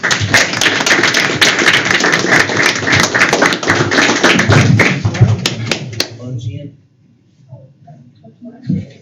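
Board of education meeting attendees clap for student runners, close, loud hand claps with sharp individual hits that run for about six seconds and then stop, followed by quiet and a little talking.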